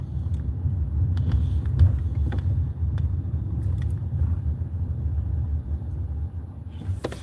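A car engine rumbles low and steady, heard from inside the cabin, with a few faint clicks and ticks over the even drone.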